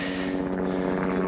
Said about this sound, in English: there's a helicopter up there